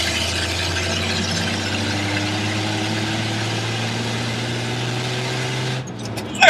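Steady drone from a 1978 Chevy C10 with a straight-six engine while driving, heard from inside the cab: a loud, even engine hum that holds constant and then dips briefly near the end.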